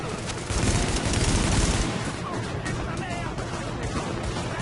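Gunfire in the video game The Division: a dense burst of rapid shots in the first seconds, then quieter continued firing and background noise.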